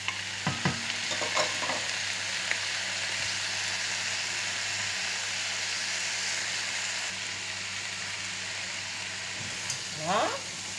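Mushrooms sizzle steadily in a frying pan while a utensil scrapes and stirs through them in a few short strokes, quiet and close.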